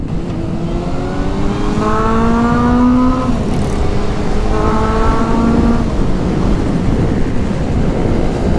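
A high-revving inline-four engine on a Honda CB400 Revo motorcycle screams in two rising bursts, each pitch climbing then dropping, over a constant loud mechanical roar.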